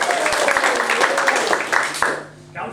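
Audience applause and cheering at a live magic show at an arts festival, a dense burst of claps lasting a couple of seconds before tapering off, with voices mixed into the crowd noise.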